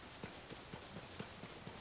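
A horse in Zelda: Tears of the Kingdom clip-clops at a walk, its hooves making regular soft thuds about four times a second, faint beneath a steady rain-like hiss.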